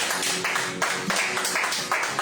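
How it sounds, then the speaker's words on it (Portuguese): A church congregation gives a round of applause, steady overlapping hand clapping in pulsing waves, moderately loud and close with no talk over it. "uma salva de palmas"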